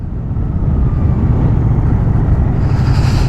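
Loud, constant low buffeting of wind against a microphone while riding a Moto Guzzi V100 Mandello motorcycle, a heavy roaring rumble with no pauses.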